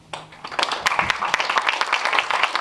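An indoor audience starts clapping to welcome Chief Eddie Casper, and the scattered claps quickly build into steady applause that lasts a few seconds.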